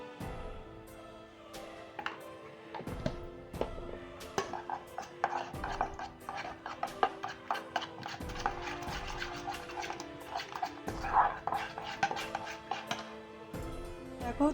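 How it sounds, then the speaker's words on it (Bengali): Eggs with salt are beaten in a bowl by hand, producing rapid, irregular clinking and tapping strokes against the dish that continue steadily, close and moderately loud, with no talk. "এবার আমি ডিমটাকে ভালো করে ফেটিয়ে নেব।"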